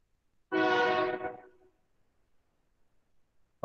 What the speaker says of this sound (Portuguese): O meu trem chegou aí,